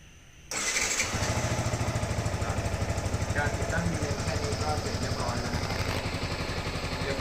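A Yamaha R15 150cc motorcycle fires up after a brief quiet moment and settles straight into a loud, steady, rapid-pulsing idle that carries on close by without pause.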